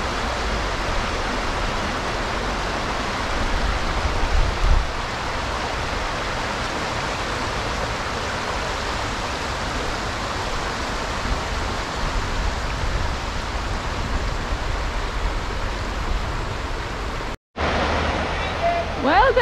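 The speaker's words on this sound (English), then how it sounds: "The sound of the water. Listen to that." Water flows and washes along the rocky shore at Ogmore in Wales in a steady, broadband rush that lasts throughout, cutting out briefly near the end.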